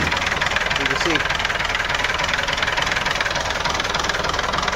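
A Massey Ferguson MF 135 tractor engine runs after a cold start, a close, loud, steady idle with a rough, knocking rhythmic chug and no letup.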